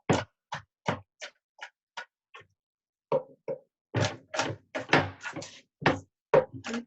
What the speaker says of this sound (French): on prend le couteau et on y va pour hacher nos noisettes